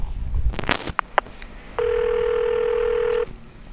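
A telephone call is placed to a builder: a few short clicks and beeps, then a steady, loud tone holds for about a second and a half before cutting off, with faint background noise around it.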